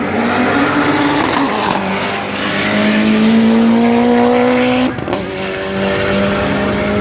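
A much-modified Subaru drag car at a York airfield drag racing event accelerates hard with a loud, steady engine roar whose pitch climbs through the gears, a brief drop near the end, then continues strongly, with no talking.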